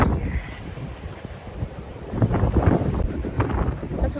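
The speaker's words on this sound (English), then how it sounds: "It's so windy." Strong wind gusts buffet the microphone at a sandy beach, a loud continuous rumbling roar that swells and intensifies in the second half, with no talk over it.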